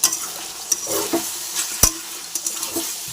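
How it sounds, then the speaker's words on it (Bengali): Mutton cooked down with spices in a pan, giving a close, steady fry and sizzle broken by scraping strokes and one sharp clatter of a utensil against the pan. "এটাকে ভালো করে কষাতে হবে দেখুন মটনটা কত সুন্দর কালার চাইছে"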